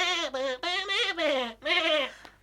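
A human voice imitates Shaun the Sheep's bleating, several wavering, nasal bleats in quick succession, close and loud, with no other talk.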